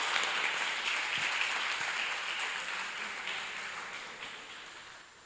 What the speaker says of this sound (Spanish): Así que denles un fuerte aplauso a todos.